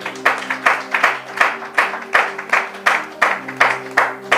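A church congregation claps in steady rhythm, loud sharp claps about every third of a second, with music or singing faintly audible beneath them.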